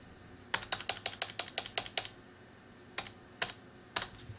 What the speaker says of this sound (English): You have to actually type things.